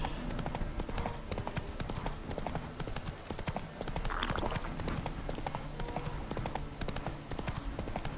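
Geralt's horse Roach gallops in The Witcher 3: Wild Hunt, its hooves clopping in a steady, fast rhythm throughout, fairly close and prominent.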